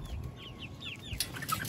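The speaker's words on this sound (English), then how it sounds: "now I'm pushing a group of half-grown chicks out towards Otis." Half-grown chicks on a farmyard give several soft, short clucks and peeps in quick succession, faint and close together over quiet outdoor background.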